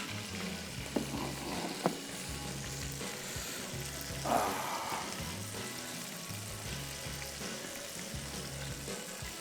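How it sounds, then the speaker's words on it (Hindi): Coated cutlets deep fry in hot oil with a soft, continuous sizzle and bubbling, joined by a few faint clicks and a brief clatter from the kitchen. "सिर्फ इसको हमने थोड़ा सा कोट किया और डीप फ्राई कर दिया बस। ये जब तक फ्राई हो रहे हैं 2 मिनट लगेंगे इसको"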